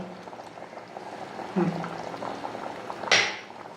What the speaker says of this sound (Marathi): अडीच वाट्या गरम पाणी करून घेतलं आणि ते घातलं